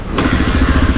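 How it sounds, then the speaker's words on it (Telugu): A motorcycle is kick-started with its kick rod on a road ride from Araku to Vizag, giving a short loud thump and clatter before a close, rumbling idle. "కిక్ రాడ్ నేను కిక్ రాడ్తో స్టార్ట్ చేసుకుంటున్నాను"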